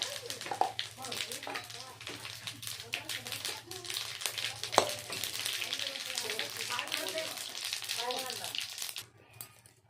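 Whole cumin seeds and dried red chilli crackle and sizzle in hot oil for a fish-head moong dal tempering, a steady hiss running the whole time beneath a person talking, cutting off near the end.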